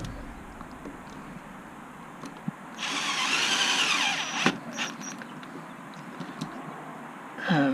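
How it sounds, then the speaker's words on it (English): A power screwdriver drives screws into a Zip USB charging port box, one short whirring burst of a couple of seconds standing clearly alone, followed by lighter handling clicks. "we can fasten these screws"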